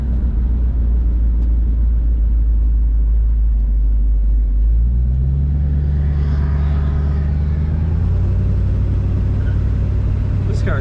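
A 1966 Ford Fairlane 500XL convertible with a kick-down transmission drives along, a deep steady engine rumble that lifts in pitch midway as it accelerates, with road and wind noise around it.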